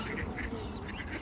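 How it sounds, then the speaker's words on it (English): A flock of ducks quacks in a steady, overlapping chatter, faint and somewhat distant, with no voices over it. "Look at all the ducks!"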